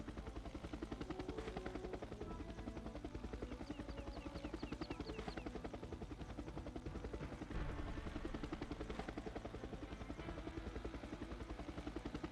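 Steady, rapid rotor chop of a helicopter in the video game Jagged Alliance 2, a loud continuous thudding that stays constant throughout without speech.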